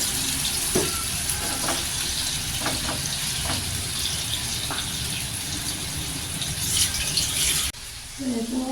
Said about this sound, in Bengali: এখন আমি কিছু মাংস ভেজে নিব, সাথে আলুও